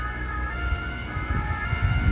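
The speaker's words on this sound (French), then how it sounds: "je vois pas ce qui justifie la sirène" Emergency vehicle siren passing through traffic, a steady wailing tone heard from inside a moving car over a rumbling engine and road noise.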